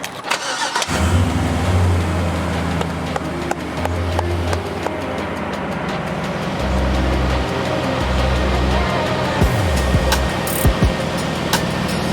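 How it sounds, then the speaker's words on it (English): A truck engine cranks and catches, then settles into a rough, steady idle with a few revs, loud and close, no voices. "we are gonna start this truck up and see how it runs"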